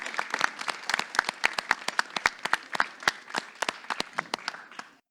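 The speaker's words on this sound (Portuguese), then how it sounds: "Salve de palmas para a Mônica, por favor" A live audience at a poetry and spoken-word event in São Paulo's East Zone claps for about five seconds, in quick, sharp, fairly close hand claps that build, hold steady and then taper off, with no talking over them.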